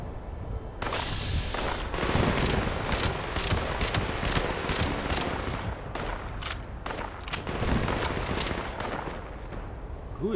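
Dense gunfire in Fallout 76, a rapid barrage of loud, close shots in quick irregular bursts that continues almost without a break, with a voice faintly underneath.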